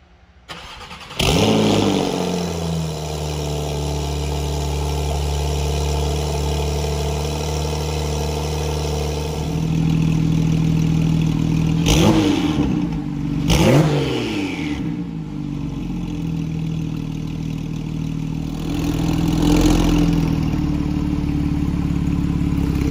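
A Porsche 911 Carrera T (991.2) with APR Stage 3 tuning and GTS turbos fires up on a dyno, settles into a steady idle, then gives several sharp throttle blips that rise and fall before idling again, close and loud.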